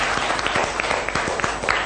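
Classroom of students clapping for a classmate during an English language teaching session, a steady, close patter of many hands over the whole stretch, with a few sharper claps rising above the rest.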